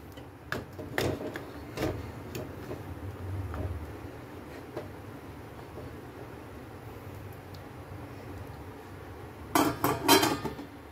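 A cooking pot is set onto a gas stove and covered with its lid, producing a few sharp metallic clanks early, a quiet stretch, then a louder cluster of clattering near the end.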